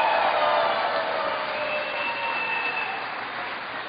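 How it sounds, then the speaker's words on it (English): A crowd at a political rally applauds and cheers for three mayors, a broad, steady wash of clapping that holds at moderate level and slowly eases off. "Give them all a big round of applause."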